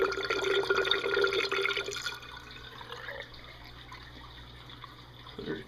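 Water draining out of an indoor aquaponics tank, a loud gurgling rush with dripping that fades after two seconds into a quieter trickle and a faint sucking slurp near the end.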